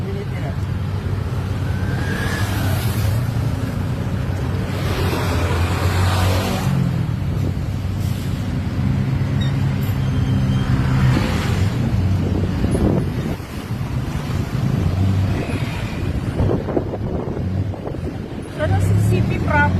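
A motorized rickshaw tuk-tuk rides through a Thai city with a steady engine rumble, road noise and heavy wind buffeting on the microphone, while passengers talk over it.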